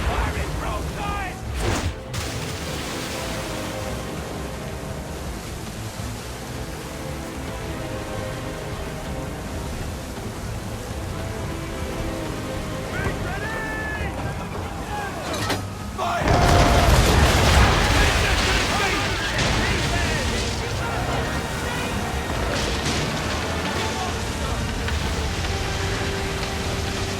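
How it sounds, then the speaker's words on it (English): Naval cannons fire a broadside in the Assassin's Creed III video game, a loud, dense roar of booms under a continuous wash of noise, swelling into a heavier blast partway through. "Fire is broadside!"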